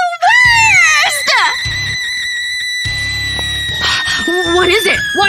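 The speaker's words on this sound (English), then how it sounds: "Why are you screaming?" A person screaming, loud wavering shrieks that rise and fall, in several bursts over about five seconds.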